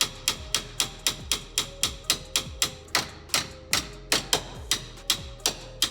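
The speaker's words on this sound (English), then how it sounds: "Got a hammer, not nearly as effective," Rapid, steady metallic hammer strikes on a bolt of a kei truck ring out close by, about three per second, each blow sharp and followed by a short ringing decay.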